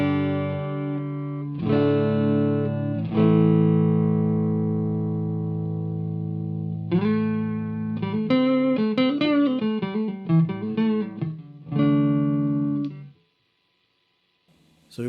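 Clean electric guitar chords and single-note runs ring through an amp with reverb and smoothed EQ, sustained notes giving way to a quicker picked phrase, then a final chord that cuts to silence; no talking.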